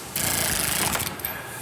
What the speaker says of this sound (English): And then we can use our power tool to run them down.